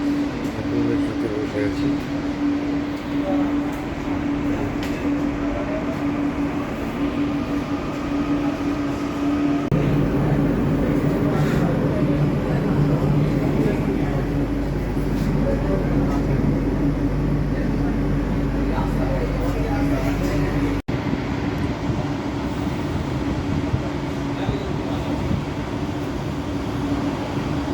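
A new metro train rake runs on the Jessore Road–Noapara line, with a steady rolling rumble that swells louder through the middle stretch over constant background noise, while people talk nearby.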